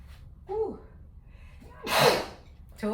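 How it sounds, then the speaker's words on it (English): A person sneezes from black pepper while seasoning jerk chicken: a sharp inhaled gasp, then one loud burst of a sneeze, close by, followed by a short breath. "Told y'all it makes me sneeze."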